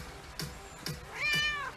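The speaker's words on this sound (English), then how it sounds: "What, cat? What'd you say, Cookie?" A domestic cat meows close by, a few short soft calls followed by a longer, drawn-out rising meow, with no talk over it.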